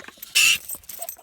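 A dog lets out a single short, high whine or yelp while fixated on a mink caught in a trap on a farm, with faint scuffling and outdoor background noise around it.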